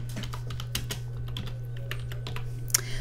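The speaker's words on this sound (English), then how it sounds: "you type in the keyword term and you hit return" Keystrokes on a computer keyboard as a search term is typed, a quick irregular run of clicks close up over a steady low hum, with no speech.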